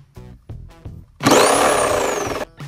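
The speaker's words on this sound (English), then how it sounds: "just gonna cut the hole here out with a jigsaw" A solar-powered jigsaw cuts a hole in a DIY off-grid air conditioner build, starting with a few short knocks and then a loud, close buzzing run of about a second before stopping.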